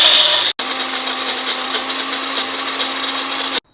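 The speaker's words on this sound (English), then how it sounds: "Blend this all together to a paste." An electric blender grinding green chutney of herbs and lemon juice into a paste, a loud steady whirring hum that starts after a brief stop and runs evenly before cutting off abruptly.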